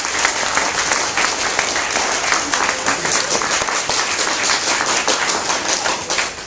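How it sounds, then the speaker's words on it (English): Middle school students in a classroom give a visiting senator a round of applause, many hands clapping steadily and loudly throughout, with no voices over it. "Let's give the Senator a round of applause for coming."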